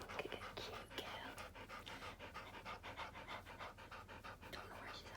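A dog pants close by in a bedroom, quick rhythmic breaths repeating steadily throughout, fairly faint and breathy.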